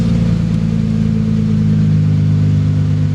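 A big-turbo Lexus GS300 running after its first start, a loud steady engine drone with a strong low hum and even rumble throughout, no talk.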